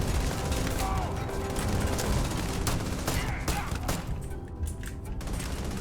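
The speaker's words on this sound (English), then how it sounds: "Someone just shoot at me?" Bursts of video-game gunfire in Starfield, rapid cracking volleys and scattered single shots, mixed with a speaker's voice reacting over the chaotic firefight.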